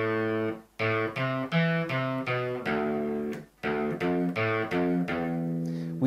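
A distorted electric guitar tuned to drop D plays a riff at a slow tempo, separate low notes and short bursts with two clear pauses, loud and up close, no talking.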